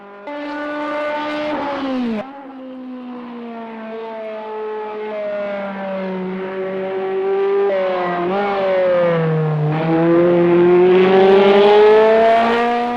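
Toyota Group C race car in Project CARS 2, its engine droning loud and steady with a strong harmonic whine, briefly dropping at a gear change before climbing in pitch again as it revs harder.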